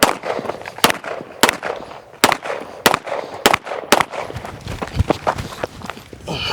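Six sharp, loud shots from a CZ Shadow 2 pistol during a carry optics movement drill, fired in quick uneven succession with footsteps and shuffling on the range between them.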